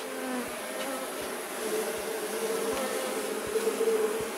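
A swarm of honeybees takes to the air while queens are introduced into an artificial swarm. The buzzing is dense and continuous and close to the listener, holding steady throughout with no one speaking.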